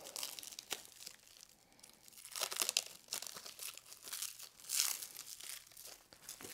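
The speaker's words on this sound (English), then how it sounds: "we're gonna get this thing out of the cellophane so that you guys can see it" Cellophane wrapping crinkles and tears off a CNC coolant blaster control box, with quiet rustling, scattered crackles and two louder crinkling bursts, close and without talk.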